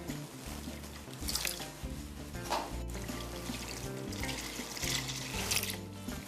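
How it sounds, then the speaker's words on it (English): Heavy whipping cream pours into whole milk in a continuous liquid stream with gurgling and trickling, close and moderately loud, for a few seconds. "we're gonna add 2 cups of this heavy whipping cream"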